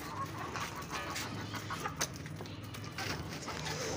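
Light Sussex chickens cluck and call around a backyard poultry cage in winter, a steady close flock chatter over a dense, noisy background with no clear pauses.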